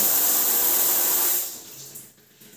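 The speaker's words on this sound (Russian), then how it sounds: "Душ у нас хорошим напором." A hostel shower running with strong water pressure, a loud dense hiss of spraying water that cuts off abruptly partway through, leaving faint drips and room noise.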